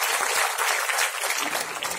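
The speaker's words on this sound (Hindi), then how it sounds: "जोरदार तालियां।" Loud applause from a crowd at a political party gathering, dense and steady across the whole moment, then thinning a little toward the end, with no voices over it.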